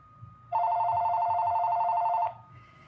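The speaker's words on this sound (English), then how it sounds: "So I'm receiving a phone call by Mr. John Van Dyke" A telephone rings with an incoming call, one steady electronic bell tone held for nearly two seconds, loud and close, over a faint low background hum.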